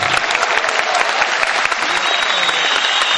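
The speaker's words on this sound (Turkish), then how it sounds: "Alkışlayan elleriniz dert görmüşsün." Loud, close applause from an audience at a Rumeli Turks regional cultural evening organized by Zeytinburnu municipality, brisk continuous clapping throughout.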